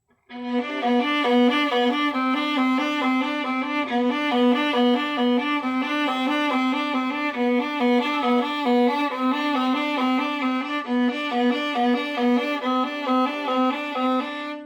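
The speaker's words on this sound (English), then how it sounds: "you could guess that that is the viola section playing that part." A bowed string section repeats a steady, pulsing harmony figure in the middle register, even and moderately loud throughout with no talking.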